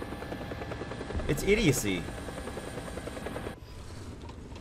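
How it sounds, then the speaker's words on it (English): Helicopters in War Thunder, a steady rotor thump and whine under tank battle noise, rising to a louder pass before cutting off, with someone talking over it. "you can't do anything about the helicopters that can just sit way off the map and just spam rockets in"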